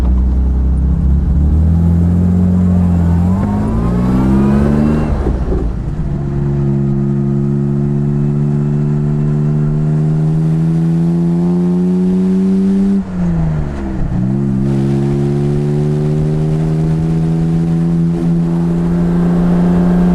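A 1959 Jaguar XK150S with its 3.4-litre engine drones steadily while driving at about 2,400 RPM, a loud, close, continuous hum that shifts pitch briefly as it changes speed, with no voices.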